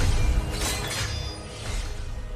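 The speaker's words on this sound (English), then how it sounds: "When these chains shatter" Chains in a World of Warcraft expansion cutscene shatter in a loud, dense, bright crash of breaking fragments that washes over a deep rumbling orchestral swell and slowly decays.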